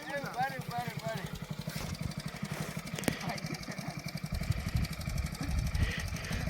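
A motorcycle engine chugs at a low, pulsing idle and revs unevenly, with voices talking over it at a pond's edge where the bike is being pushed into the water.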